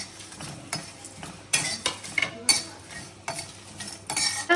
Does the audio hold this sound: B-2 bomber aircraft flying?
no